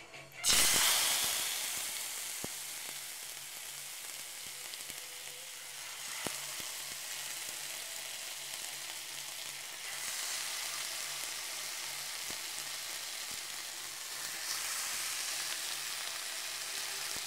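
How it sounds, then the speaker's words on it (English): Rabbit pieces browning in hot oil in a frying pan, a steady broadband sizzle that flares loudly at the start as the meat goes in, then holds an even hiss with occasional pops and swells. "What we're going to do first off is just fry the rabbit off just till it's brown"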